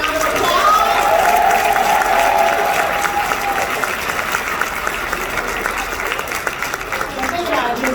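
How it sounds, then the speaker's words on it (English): A hotel ballroom crowd at a Hyperverse event gives a dense, loud round of applause throughout, mixed with crowd noise and a faint whistle or cheer near the start. "please give our VIP3s another round of applause"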